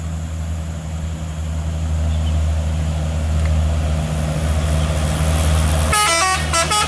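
A Hino truck rolls along a hillside road with an empty tour bus behind it, bound for West Sumatra. A heavy engine drone runs throughout, and a sharp, pulsing horn blast breaks in near the end.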